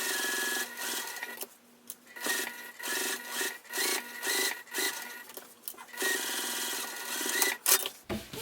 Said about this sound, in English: I am now going to sew 1/8 of an inch away from the edge on all 3 sides.